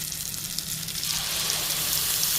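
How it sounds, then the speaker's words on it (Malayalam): Fish frying in a pan gives a steady, dense sizzle with a faint crackle. It grows slightly louder and fuller after the first second and continues without pause, with no voices. "ഞാൻ മീൻ വറുക്കാൻ വെച്ചു."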